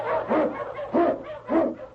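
An Eskimo lead sled dog barks three times, deep and evenly spaced, close and clear, with no voices.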